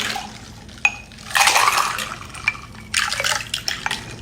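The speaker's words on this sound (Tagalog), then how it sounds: "Dagdagan ko pa ng tubig." Water splashes and pours into a pot or container during home cooking, two bursts of gushing liquid separated by a short gap, preceded by a small clink, close and fairly clear.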